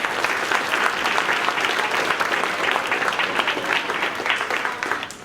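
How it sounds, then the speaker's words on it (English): At a spring concert, the audience gives the student band members a full round of applause, a loud, sustained wall of clapping hands that holds steady for about five seconds before tapering off. "Give them a round of applause."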